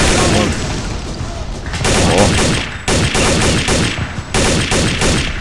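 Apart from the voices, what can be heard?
gunfire in the video game Counter-Strike Zero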